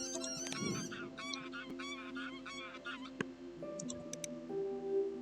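A goose honks repeatedly in the Wingspan bird board game, a series of nasal calls over faint background ambience, followed by a few light ticks.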